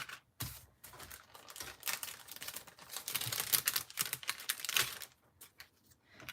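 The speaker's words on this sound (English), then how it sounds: "we'll get these all die cut" A die cutting machine presses paper pieces at a stamping craft session, with close, uneven crinkling and clicking bursts that build to a rough, grinding middle before easing off.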